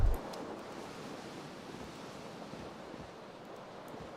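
Steady ocean surf ambience from a hazy coastal scene in Disco Elysium, a continuous wash of waves and wind at even loudness after a short thump at the start, with no talking.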